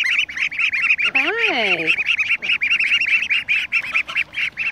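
Six baby ducks peep in steady, rapid chirps with the wider duck flock calling around them, close and lively, while a person speaks briefly over the calls.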